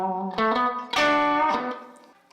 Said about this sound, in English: So this is the sound of the bridge pickup.